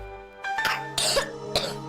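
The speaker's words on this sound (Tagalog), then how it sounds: "Ubo ng anak? Nakababahala? Baka plema." A child coughs several times in quick, harsh bursts, close and fairly loud, in a radio advertisement for a lagundi-based children's cough syrup. A faint throat-clearing quality runs between the coughs.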